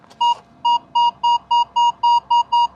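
Short, identical electronic tones from a Minelab X-Terra metal detector repeat about nine times at a steady rhythm, each a separate single beep, clear and close against a quiet background.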